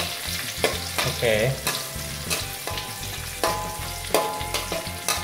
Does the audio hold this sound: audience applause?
no